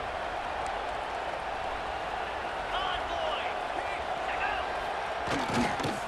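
A steady roar of a large stadium crowd at a college football game between Arizona State and Oregon fills the space, building slightly toward the end with some distant shouts rising over the din.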